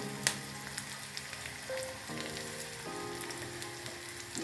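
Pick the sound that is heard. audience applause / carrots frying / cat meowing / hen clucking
carrots frying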